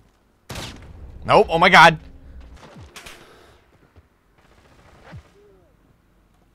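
Gunfire in the shooter game Call of Duty: Modern Warfare, with an opponent using a 725 shotgun: a sudden loud burst of shots up close, then a few scattered fainter bangs, under a player's startled exclamations.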